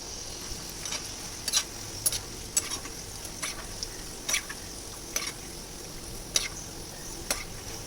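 Peanuts crackle and sizzle in hot oil while being fried for a masala peanut snack, with a steady low hiss and scattered sharp pops and scrapes close by.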